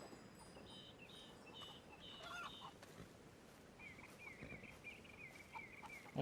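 Chickens cluck softly around a camp chicken coop in Red Dead Redemption 2, faint bird calls drifting over a steady outdoor ambience, with a louder sound rising right at the end.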